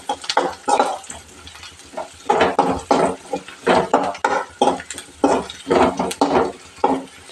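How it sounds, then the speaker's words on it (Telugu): Spoon stirring coriander powder into okra curry in a frying pan, rhythmic scraping strokes against the pan with a light sizzle underneath, close and steady with no talk. "చూడండి ధనియాల పొడి ఇది కలిపేసుకుందామండి ఒక్కసారి ఇలా"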